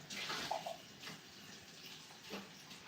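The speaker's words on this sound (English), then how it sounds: "I forgot to rinse out my shaker." A cocktail shaker is rinsed under a running tap, giving a soft, steady hiss of flowing water with a few faint splashes, fairly quiet and without talk.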